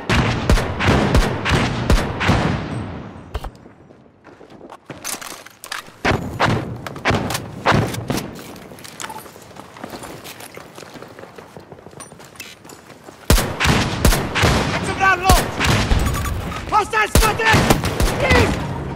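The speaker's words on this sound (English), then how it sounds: "They're shooting at me!" Bursts of gunfire and heavy thuds from a Battlefield 2042 firefight, loud and dense with rapid shots and impacts, dropping to a quieter stretch mid-way before the shooting intensifies again, with voices calling out between volleys.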